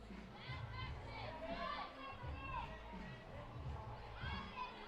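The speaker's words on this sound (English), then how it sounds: "You probably hear the Italian contingent cheering him on." A crowd of Italian supporters at a youth climbing world championship lead event in Innsbruck cheers and shouts encouragement to a climber, a faint, distant and fluctuating roar of voices under a commentator talking.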